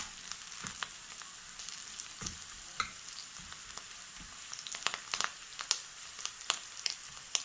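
Slit green chillies crackle and sizzle in hot oil with browned onions, a steady fry hiss broken by scattered sharp pops and stirring scrapes, close and alone.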